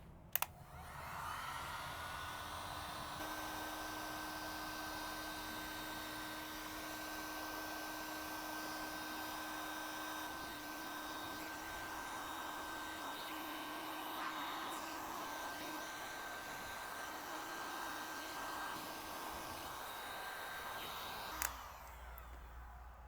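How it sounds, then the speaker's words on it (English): A heat gun blows hot air on wire during machine knitting work, a steady close whooshing hum with a faint whine that runs unbroken for about twenty seconds before a click cuts it off. "And then just point the heat gun at it."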